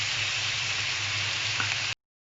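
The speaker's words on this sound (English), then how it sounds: "keep sauteing it, keep frying it, keep stirring it" Fish gravy paste sautéing in a hot pan gives a steady, close sizzling hiss that runs unbroken for about two seconds. A low hum sits underneath, and the sound then stops abruptly.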